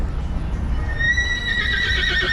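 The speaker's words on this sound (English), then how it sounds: "You heard that neigh?" A horse neighs in downtown Natchitoches, Louisiana, a rising whinny that grows louder over steady street and crowd rumble, with faint hoof clatter underneath.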